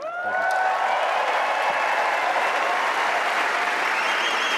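Wimbledon tennis crowd applauding after a match, dense sustained clapping that swells quickly and holds steady, loud and close with no talk over it.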